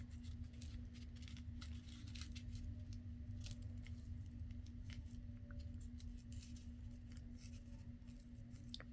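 Scissors snip through paper for an altered index card in quiet, close, irregular cuts over a low background hum.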